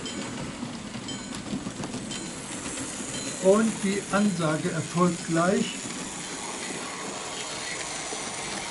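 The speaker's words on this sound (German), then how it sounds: "Genau, ein Zug fährt durch," Märklin model railway with a BR 86 locomotive pulling a freight train, rattling past in a short burst of rhythmic clicking wheels on track joints, moderately close, with a voice speaking briefly before it.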